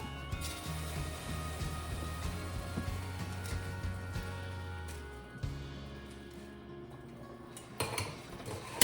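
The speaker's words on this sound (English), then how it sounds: "Stir it all up" A spoon stirs pasta with mushrooms in a cooking pot, giving a run of close, light clinks and scrapes against the pot that thin out toward the end.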